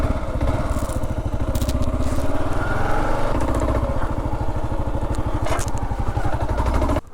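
Kawasaki KLR 650 single-cylinder engine thumping rapidly while riding a desert dirt road in Nevada, close and steady with shifting pitch as revs rise and fall, plus wind and gravel crackle.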